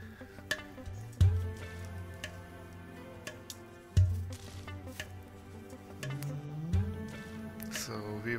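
Tomato puree for pav bhaji sizzles and cooks down in a pan, a soft steady frying hiss with a few louder stirring knocks, close and fairly quiet, with no talking.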